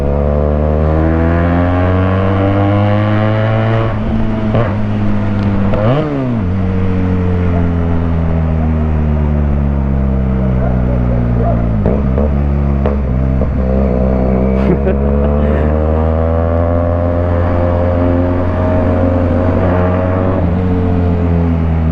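A QJ Motor SRK 400 motorcycle with its exhaust is revved up and down repeatedly, the close, loud engine tone rising and falling in several sweeps over a steady idle.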